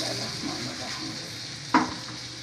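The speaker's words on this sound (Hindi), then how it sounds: "आपको चटखारों की आवाज़ आ ही रही होगी माशाल्लाह से" Gola kabab mixture and onions sizzle steadily in a pan, a soft continuous frying hiss with one brief clink of a utensil near the end.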